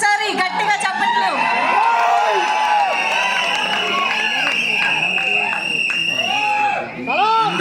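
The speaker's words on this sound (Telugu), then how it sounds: "రిక్వెస్టింగ్ రవి బస్రూర్ గారికి ఒక్కసారి గట్టిగా చప్పట్లు" Crowd at a film event for the makers of KGF and Salaar, cheering and whooping loudly with scattered clapping, a continuous dense roar that holds steady throughout.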